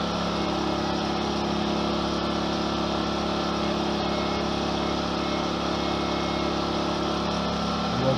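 Amico AIG2000 or Pulsar PG1202S portable generator running at full throttle rather than eco mode, a steady, loud engine drone that holds even and unbroken from start to finish with no talking.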